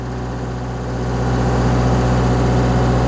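Miller Big Blue 700X Duo Pro welder engine revving up to high RPM, a steady loud drone that climbs in level after the first second and holds there, with no talk.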